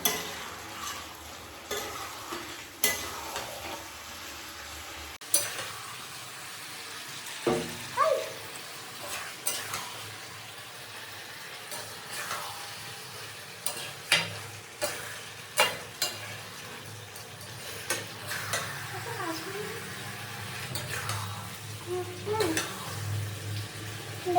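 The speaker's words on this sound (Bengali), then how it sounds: "কষিয়ে নেওয়ার পরে আমি জল দিয়ে দেবো" Spicy chicken frying in a pot, with water poured in and stirred: low sizzling broken by repeated metal spoon knocks and scrapes against the pot, plus a bubbling hiss, with no voices.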